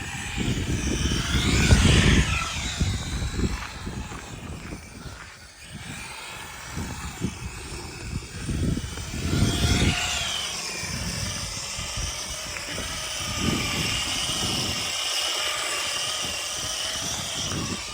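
A dual-motor, all-wheel-drive Haiboxing RC car drifts on light snow outdoors. Its high electric motor whine rises and falls as it spins, with rumbling bursts of wheel and surface noise. The car comes and goes at moderate distance.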